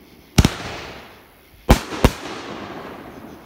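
A Raccoon Fireworks 'Out With A Bang' firework explodes in three loud, sharp reports outdoors, one early, then two close together, each followed by a fading rumble, with no talk.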